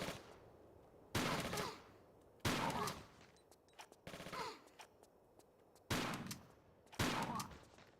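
Gunfire aimed at the player in Tomb Raider IV, heard as sharp bursts of shots at about 1, 2.5, 6 and 7 seconds, each loud and decaying. Fainter clatter and small hits fall between the bursts, and no one speaks.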